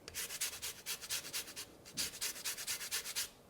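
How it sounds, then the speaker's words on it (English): A whole lemon being zested on a grater into muffin batter, close-up rhythmic rasping strokes, about twenty quick scrapes in two bursts with a short pause between them. "So I'm going to take 1 whole lemon and zest it right into my batter."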